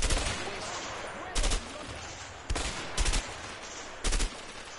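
Bursts of gunfire in the co-op video game A Way Out, four loud short volleys spaced across the moment over a steady noisy game backdrop.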